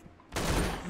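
A gunshot in the sandbox game Garry's Mod, set on an underground bunker map, hits as a sudden loud burst partway through and then rings out as a broad, sustained roar.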